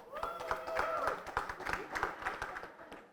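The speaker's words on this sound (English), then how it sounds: "Is that you clapping, Natalia?" A single person claps at a debate, a steady run of quick, sharp claps that is close and fairly quiet.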